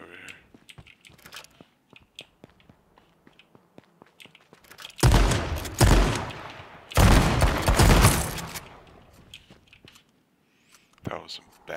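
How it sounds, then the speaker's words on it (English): Gunfire in the battle royale game H1Z1, with two loud bursts of rapid shots mid-clip, surrounded by quieter clicks and taps and another short burst near the end. "That was some bad shooting."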